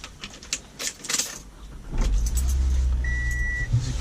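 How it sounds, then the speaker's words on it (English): Inside a Toyota Camry SE, a soft jangle of keys comes first, then the engine cranks and catches around the midpoint, settling into a steady low idle with a brief thin whine above it. "Let's start the car."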